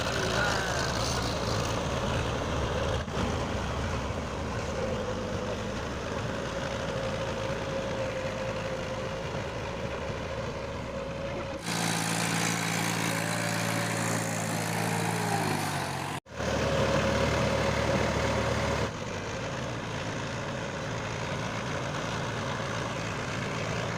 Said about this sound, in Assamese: এইটো পুৰা পানী দে একদম পুৰা ট্ৰেক্টৰ হাল বাই আছে